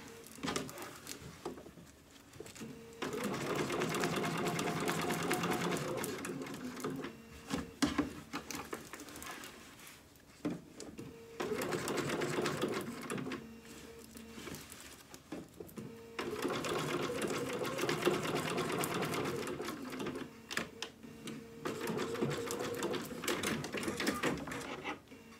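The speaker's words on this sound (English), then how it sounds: "So pivot with my needle down," Close sewing machine stitching fabric for a dog's Fourth of July party dress, running in several long, steady bursts of rapid whirring broken by short pauses and occasional clicks as the fabric is pivoted.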